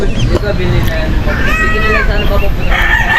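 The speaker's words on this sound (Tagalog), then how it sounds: "may mga tumitilaok ng mga manok, mga pato" A rooster crows over a steady background of outdoor noise and murmuring voices, with chickens and ducks nearby.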